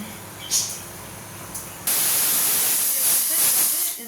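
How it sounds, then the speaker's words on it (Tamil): A pressure cooker on a stovetop, cooking Coimbatore-style dal, vents steam with a loud, steady whistling hiss that bursts in and holds for a couple of seconds, after two faint brief puffs. "இப்போ வந்து நாலு விசில் விட்டு எடுத்துக்க போகிறோம்"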